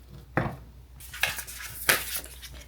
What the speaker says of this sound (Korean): 넣어주고 가루가 보이지 않을 때까지 섞어주면 됩니다.